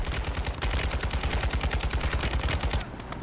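Rapid automatic gunfire in the video game Call of Duty: Modern Warfare II: a sustained loud burst of evenly spaced shots that cuts off near the end, with no voices.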